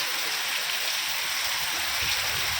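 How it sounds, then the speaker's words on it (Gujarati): Floodwater from a river still flowing after a sudden flood on a farm, a steady broadband rush of running water close by, continuous and even throughout with no voices. "જો હજી પાણી જાય છે અત્યારે"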